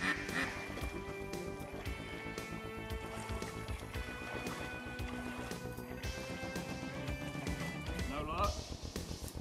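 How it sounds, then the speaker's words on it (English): Ducks quacking repeatedly in the distance as flocks fly overhead at first light, over a busy outdoor background with some human voices mixed in. "several droves of ducks flying overhead at first light"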